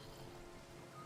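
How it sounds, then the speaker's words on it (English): Steady Minecraft rainfall hisses evenly through the whole brief moment, soft and alone with no voices. "Now it's raining."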